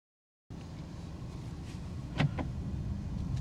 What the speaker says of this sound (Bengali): স্পিডটা সম্ভবত 10 কিলোমিটার পার আওয়ার হওয়ার সাথে সাথে কিন্তু ডোরগুলো অটোলক হয়ে গেছে